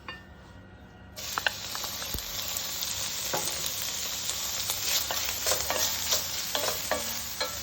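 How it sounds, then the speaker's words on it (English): Streaky bacon sizzles in olive oil in a heavy pan, a steady dense crackle that starts suddenly after a second of quiet and carries on with scattered sharp pops, close and alone with no talk. "Really starting to sizzle now, and that natural fat from the streaky bacon is being released into the pan."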